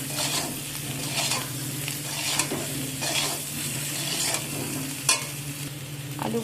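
Potatoes fry in a wok with salt and turmeric, a continuous sizzle broken by repeated scraping stirs and an occasional clank of the spatula, close and steady with no voices.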